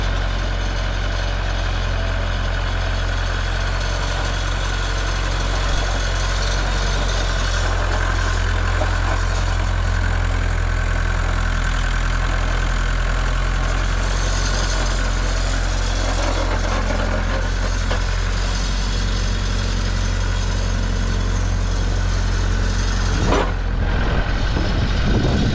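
Diesel engine of a Bobcat skid steer loader running steadily and loud at close range, a continuous heavy low rumble with a brief surge near the end and no talking.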